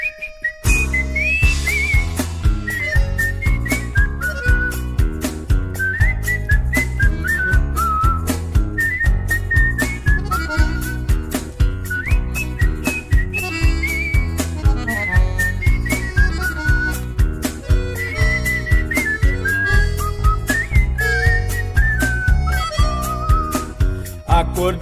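Someone whistles a lilting chamamé melody over steady rhythmic accompaniment, the tune clear and continuous throughout.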